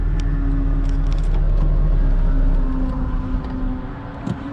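The engine of a third-generation car idles steadily with a loud, close, low rumble and a constant hum, then dips and roughens near the end as it falters.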